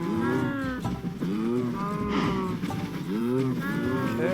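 Cows in a video game moo repeatedly in overlapping, drawn-out calls, several animals close by and loud with no one speaking.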